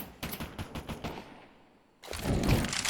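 Several rifles firing in Counter-Strike: a rapid run of sharp shots in the opening second, a brief lull, then a louder, denser burst of overlapping fire up close.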